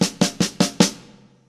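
A 16th-note drum fill, starting at the end of beat 3 and moving into beat 4: five evenly spaced, close, punchy hits, then a ringing decay into silence.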